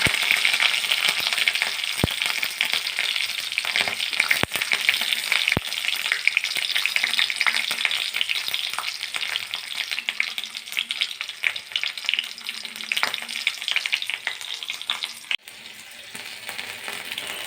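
Chana dal and green chilli sizzle steadily in hot oil right after mustard seeds splutter, for a boiled-rice upma; a loud, continuous crackling hiss with a few sharp pops, and no voices.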